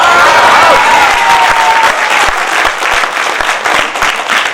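Loud, dense applause from the audience at a Hindi comic poetry gathering, rolling on continuously with a few scattered cheers and voices mixed into the crowd.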